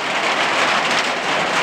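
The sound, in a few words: rain falling on a barn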